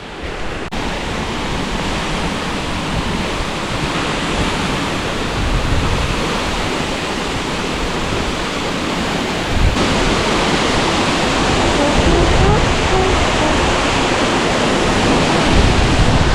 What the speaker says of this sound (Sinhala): මේ තමයි ලංකාවේ උසම දියඇල්ල